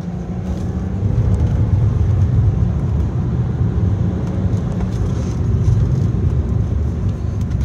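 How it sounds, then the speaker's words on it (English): A car accelerating on a dealership test drive, heard from inside as a loud, steady engine and road rumble that holds without a break. "just to let you get an understanding of the acceleration, how the vehicle handles."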